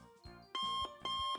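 A museum security gate beeping as a phone passes through, with two sharp electronic tones in quick succession, close and clear against a quiet background.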